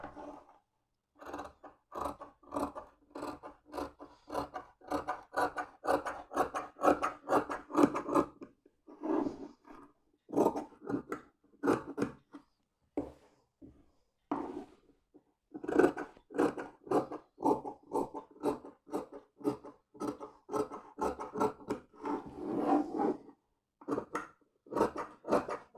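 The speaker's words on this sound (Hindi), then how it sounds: "अब इसे हम काट देते हैं।" Scissors cut blouse fabric along a marked back piece, a quiet series of rhythmic snips in steady runs with short pauses between, close and alone.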